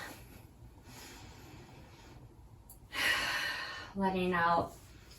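Ujjayi breathing during a yoga session comes as audible breaths: a faint early exhale, then a strong hissing breath, and finally a louder, partly voiced sighing exhale near the microphone.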